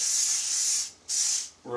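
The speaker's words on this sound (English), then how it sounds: "Today I'd like to show you Saniguard, a dry spray for such areas as your keyboards of your computer" Saniguard dry disinfectant spray hisses from the can in two loud, close bursts, the first near a second long and the second shorter, each cutting off sharply.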